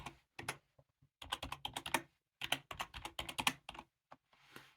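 A computer keyboard types a password during Raspberry Pi 5 setup, with quiet, close keystrokes in quick clustered runs separated by short pauses.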